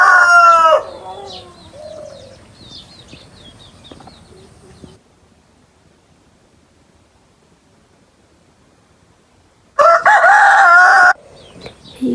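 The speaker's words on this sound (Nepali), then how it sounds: "यता चाहिँ भाले बाँसिरहेछ बस।" A rooster crows loudly nearby, with a brief call at the very start, fainter bird chatter and clucks trailing off into near silence, then a second long, full crow about ten seconds in.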